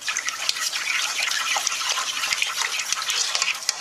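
Ten cracked eggs are stirred in a bowl for crab and shrimp noodle soup, giving a close, continuous wet sloshing and swishing with small clinks and splashes scattered throughout the few seconds.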